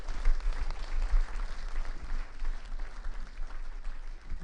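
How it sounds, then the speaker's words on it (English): Audience applause for Kenny McPeak at a Breakfast With The Stars live event, a fairly faint, steady patter of clapping heard from a distance, with no voices over it. "Please give a warm round of applause to Kenny McPeak"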